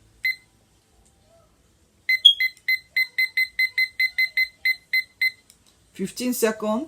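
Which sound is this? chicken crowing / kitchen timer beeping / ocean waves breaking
kitchen timer beeping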